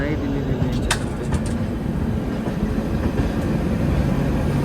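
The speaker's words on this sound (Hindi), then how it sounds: "और अपना अराइवल हो रहा है नई दिल्ली रेलवे स्टेशन पे।" A train rolls into New Delhi railway station, a loud continuous rumble of wheels and carriages close by with a few brief higher squeals and clanks over the steady noise.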